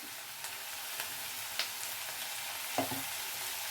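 Methi and tomato curry is stirred in a pan, a soft continuous sizzle broken by a few light spoon taps and scrapes, the sharpest near the end, close and moderately quiet without speech.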